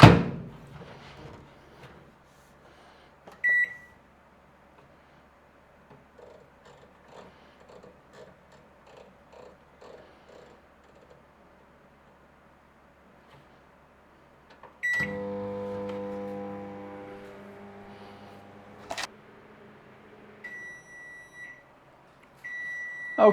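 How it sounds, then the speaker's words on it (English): A microwave oven runs while heating a traditional spotted dick pudding, giving a quiet hum with a few scattered ticks, then a louder buzzing run before sharp completion beeps near the end. "Let's get that in the microwave."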